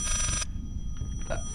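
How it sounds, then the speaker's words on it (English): A telephone bell rings loudly in the horror video game Layers of Fear, a short burst that cuts off abruptly, followed by quiet ambient game sounds. "That phone scared the living shit out of me."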